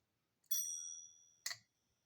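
A small bell on a homemade electric mini bike with a 1500 W brushless motor rings twice, first a long bright ding that rings out and then a shorter second strike, close and clear with no talk.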